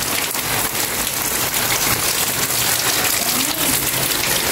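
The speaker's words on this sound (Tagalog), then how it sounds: "Ngayon lang po yung nakakaligo si Aya sa ulan this year." Steady, heavy rain pours down and patters on surfaces, a dense continuous hiss with no voices.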